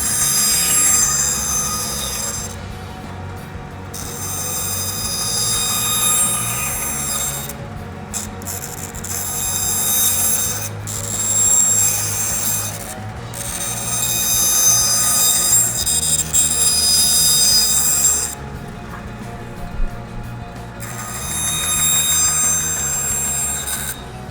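A band saw making relief cuts during a shop safety demonstration gives a steady, loud, whining hum with a scraping edge that runs the whole time, rising and dipping slightly as the blade works through the piece.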